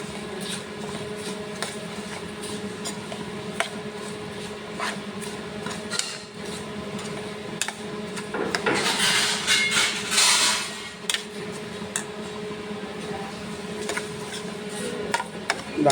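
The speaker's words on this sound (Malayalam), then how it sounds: "നമുക്ക് ഇതിലേക്ക് ഒരു ചെറിയ സ്പൂൺ കുറച്ച് മല്ലിപ്പൊടിയും കൂടി ഇടാം. ഇത് നന്നായി ഇളക്കാം." Roasted grated coconut and coriander powder are stirred in a pan for koottukari, giving a steady dry scraping and rubbing with a few sharp clicks and a louder burst of scraping in the middle.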